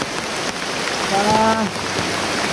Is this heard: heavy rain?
yes